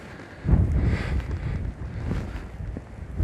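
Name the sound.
strong wind during a sea storm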